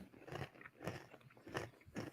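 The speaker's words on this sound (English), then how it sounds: "I'm just going to chew some pretzels into the microphone" Close, crunchy bites and chewing of pretzels right against a microphone, four or five distinct crunches spaced about half a second apart, fairly quiet overall with no talk.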